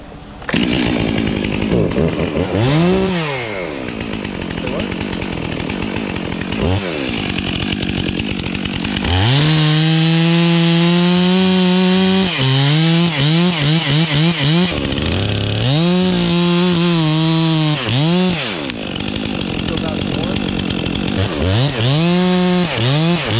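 A loud chainsaw runs close by, its engine revving up and down repeatedly as it cuts through a tree stem, with no break in the roar.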